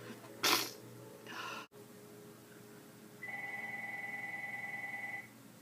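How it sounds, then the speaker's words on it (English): A telephone rings indoors with a steady electronic tone lasting about two seconds, preceded by a sneeze-like burst and breathing. "My phone is ringing."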